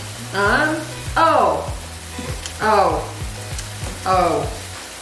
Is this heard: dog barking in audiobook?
no